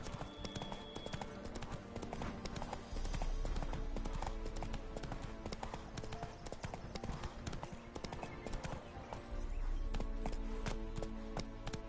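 Roach the horse galloping in The Witcher 3, a rapid steady clatter of hoofbeats that runs throughout, quite close, with a low rumbling bed under it.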